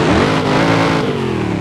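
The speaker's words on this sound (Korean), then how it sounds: "제가 시동 한번 켜볼게요." A full-size replica of a toy car starts up with a loud engine roar that rises in pitch and settles into a steady, rich idle, close and dominant.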